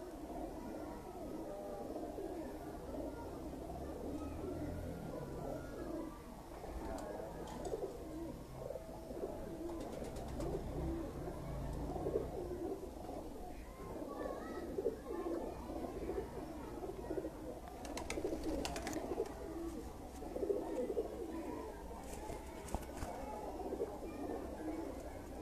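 High-flying pigeons coo softly and repeatedly at a loft, with low, rolling calls layered over faint background noise and occasional distant voices.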